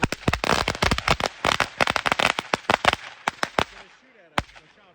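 Fourth of July fireworks crackling and popping in a dense, loud rapid burst for about three seconds, then thinning to a few scattered pops, with people talking nearby.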